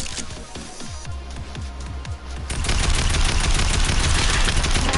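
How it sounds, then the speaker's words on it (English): Revolver gunshots in Fortnite ring out as a string of sharp, booming cracks about half a second apart, then a denser burst of gunfire and loud roaring noise takes over and fills the rest. "Why are you shooting with a revolver?"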